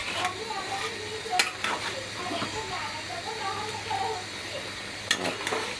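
Leafy greens and potato boil in a pot on a home stove at night, giving a steady close hiss with soft, irregular bubbling and a few sharp clinks.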